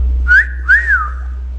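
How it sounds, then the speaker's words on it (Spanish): A person whistles two short rising-and-falling notes, clear and close, the second note longer and sliding downward before fading, with no talk. "Silbidos"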